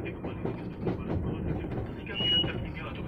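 A KRL commuter train in Indonesia rolls along the rails with a steady low rumble and rhythmic clatter, a faint wheel squeal rising briefly near the end.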